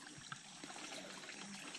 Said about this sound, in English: Yeah, that's just straight fresh water.